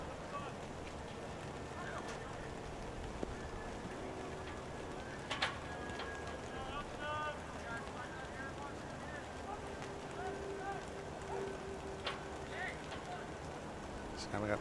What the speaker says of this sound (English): the rain starts to come down a little bit